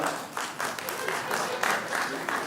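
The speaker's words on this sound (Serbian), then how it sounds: "Ajde aplauzom" Audience at a stand-up comedy show breaks into lively applause in rising and falling bursts, with voices mixed in among the clapping.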